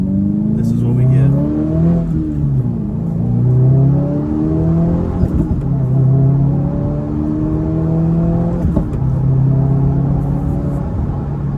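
A 2024 Subaru WRX fitted with an AWE exhaust drives and revs, its engine note rising and dropping through several gear pulls in a loud, close in-cabin drone, with a person talking over it.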